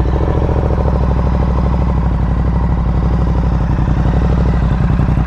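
Yamaha R7 motorcycle engine running loud and close, a steady throbbing idle with rapid even firing pulses after starting, with no talk over it.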